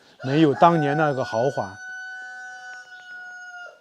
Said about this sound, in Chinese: 我们在这里还能听到一些公鸡打鸣的声音